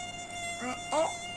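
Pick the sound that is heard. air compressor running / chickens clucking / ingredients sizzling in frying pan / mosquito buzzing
mosquito buzzing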